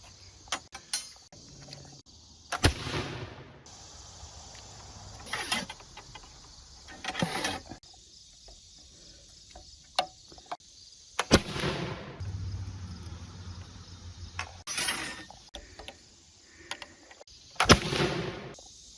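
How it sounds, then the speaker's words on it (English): Three rifle shots fired with 200 grain bullets, each a sharp crack followed by a rumbling echo, spaced several seconds apart among other scattered impacts and clicks outdoors, no speech. "We've done the 200 grain string. This was the first shot. This was the second shot. And this is the third."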